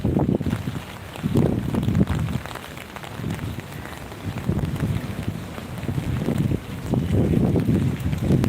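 Strong gusty wind from Cyclone Fengal buffets the microphone in repeated surging roars, rising and falling every couple of seconds with a continuous rushing background.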